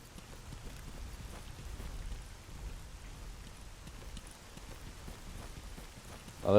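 Steady, faint rain patters continuously in STALKER Anomaly GAMMA, a soft even hiss of drops with a slight swell near the end, no talking.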